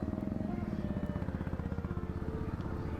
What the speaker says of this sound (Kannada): ಫಸ್ಟ್ ಬೈಕ್ ಪಾರ್ಕ್ ಮಾಡಬೇಕು